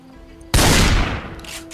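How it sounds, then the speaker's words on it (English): One loud, close shotgun blast in Project Zomboid cracks out sharply, then leaves a broad rumbling tail that fades over about a second, with no voices over it. "If I'm gonna use the shotgun, I'm gonna do it at least somewhat right."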